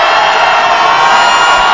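Loud, dense crowd cheering and roaring at a college basketball game in an arena, a sustained wall of noise with no pauses.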